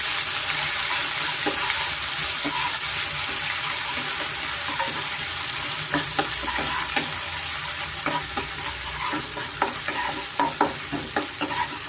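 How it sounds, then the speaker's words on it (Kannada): Hing, green chili and grated ginger frying in a pan for vegetable rava idli, a steady close sizzle throughout with scattered stirring clicks and scrapes growing more frequent toward the end. "ಸ್ವಲ್ಪ ಹಿಂಗೂ ಸೇರಿಸ್ಕೊತೀನಿ ನಾನು ಮತ್ತು ಹಸಿಮೆಣಸಿನ್ಕಾಯಿ ಮತ್ತು ಶುಂಠಿ ತುರಿ ಸ್ವಲ್ಪ ಮೇಲೆ ಹೋಗೋವರೆಗೂ ಸ್ವಲ್ಪ ನಾವು ಫ್ರೈ ಮಾಡ್ಕೊಬೇಕಾಗುತ್ತೆ"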